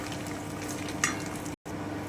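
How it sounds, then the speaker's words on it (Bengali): Cinnamon stick being stirred in hot oil left over from frying paneer, a steady close sizzle with a brief spoon scrape and a short dropout near the end. "দারচিনিটা একটুখানি নেড়ে নিচ্ছি"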